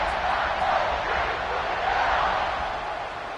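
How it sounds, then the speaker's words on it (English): A football stadium crowd buzzing after a touchdown, a dense, loud and steady roar of many voices that fades slightly toward the end. "this crowd is buzzing after that last score."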